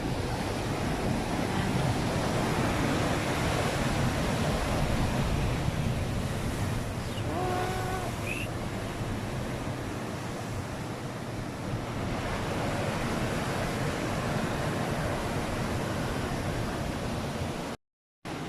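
Sea waves washing continuously onto the shore at a beach, a dense steady roar with gusty wind noise and no talking.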